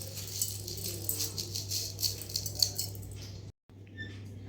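Mango pieces being shaken with salt and castor oil in a container give a close, busy rattle and patter, then a brief silence followed by a few softer knocks.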